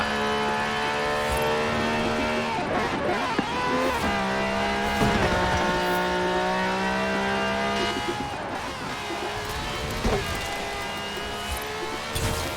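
In Forza Horizon 4, a Lamborghini drives through snow with a high, droning engine note that climbs and drops through gear changes, steady and close, with occasional squeals and no talking.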